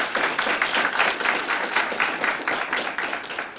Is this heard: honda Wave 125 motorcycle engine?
no